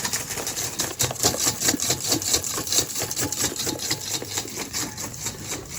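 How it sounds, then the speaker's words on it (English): Meringue of sugar, egg and a pinch of salt whisked by hand in a bowl, giving a fast, steady, rhythmic scraping and rattling close to the listener. "Let's start to beat the meringue using a whisk."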